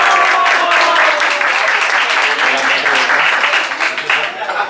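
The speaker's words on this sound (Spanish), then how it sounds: "Un aplauso para" An audience at a pairing dinner with wines from Bodega Chozas Carrascal applauds the sommelier, with dense, steady clapping throughout that loosens slightly near the end.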